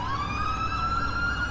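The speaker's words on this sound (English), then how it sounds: "Oh my god, the ambulance is driving into the police tape." Ambulance siren in the police game LCPDFR for GTA IV, a steady rising wail sounding loud and continuous with harmonics, no talk over it.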